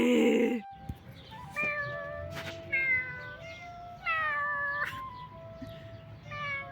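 A video game cat meows several times in drawn-out, rising and falling calls, close and clear, with brief gaps between them and no talking.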